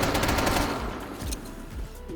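Rapid bursts of gunfire from a game played on a PlayStation 5 Pro rattle in quick succession with deep booming impacts, loud and close, fading slightly toward the end.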